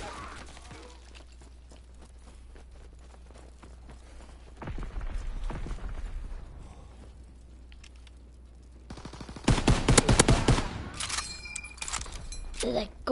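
Automatic gunfire from a WW2-era machine gun in a first-person shooter game, heard as a steady background of faint shots that builds into louder, dense rattling bursts near the end, with a player talking intermittently over it.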